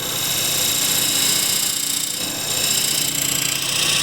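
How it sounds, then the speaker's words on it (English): A skew chisel undercuts a wooden tray blank spinning on a lathe, giving a steady, continuous scraping hiss with a low motor hum underneath, loud and close throughout. "Now with the skew I want to undercut this portion here"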